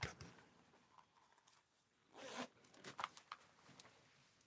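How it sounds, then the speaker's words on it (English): A clothing zipper is pulled shut in a few close, raspy strokes, the longest sweep loud in the middle, with quieter rustling around it and no talking. "And I'm going to zip it up."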